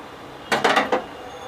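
A lid clatters onto a pan of bitter gourd in a short burst of three or four quick metallic knocks and rattles, then falls quiet.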